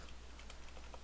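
Light, quick keystrokes tap on a computer keyboard during a Python coding session, soft and close with an uneven rhythm and no talking.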